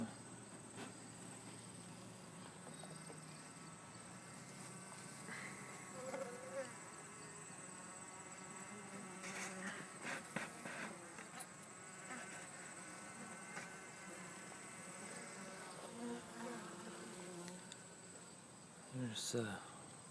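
Honey bees at the hive buzzing and fanning: a steady, close insect drone throughout with a constant high whine, occasional louder passes of individual bees and faint rustling and handling noises.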